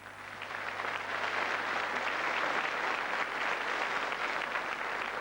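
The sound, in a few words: studio audience applause for guest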